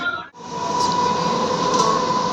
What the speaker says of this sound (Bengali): দেখো ট্রেন চলে এসছে